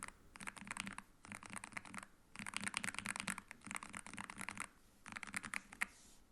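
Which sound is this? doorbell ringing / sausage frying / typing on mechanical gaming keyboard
typing on mechanical gaming keyboard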